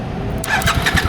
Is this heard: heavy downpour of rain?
no